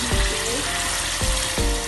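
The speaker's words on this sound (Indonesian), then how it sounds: "ayamnya udah saya goreng pakai mentega" Chicken pieces fry in butter in a pan, giving a steady loud sizzle with a few brief stirring clatters.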